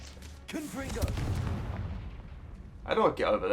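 A Confringo spell in Hogwarts Legacy gives a heavy, booming blast with a rumbling decay, followed by a sharper crackling burst near the end. A person speaks briefly over the effect.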